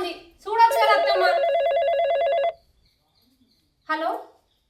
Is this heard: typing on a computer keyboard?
no